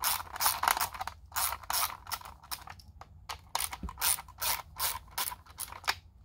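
A ratchet backing out bolts from the backing plate of a 1999–2006 GM800T HVAC unit: close, rapid bursts of clicking pawl strokes, repeated in short uneven runs with brief pauses between.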